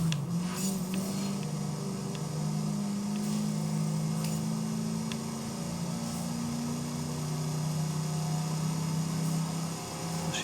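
A car engine idles steadily in Forza Horizon 5, a low sustained hum with faint mechanical hiss, holding evenly throughout with no voices.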